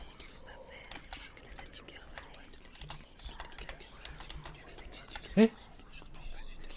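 Soft whispering and rustling voices murmur through the OFF game's Zone 0, faint and continuous, while a player briefly speaks over them.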